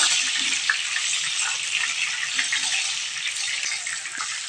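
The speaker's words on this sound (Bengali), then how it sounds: "আলুটা আমি ভেজে নিচ্ছি।" Potatoes frying in hot oil in a wok give off a dense, steady, bright hiss that holds evenly throughout with little variation and no talking.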